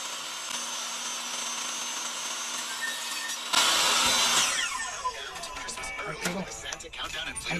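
A saw rips through wood to cut pieces for a Hot Wheels toy car display case, starting loud and abruptly midway after a steady background hum and continuing with the rough buzz of the blade in the workpiece.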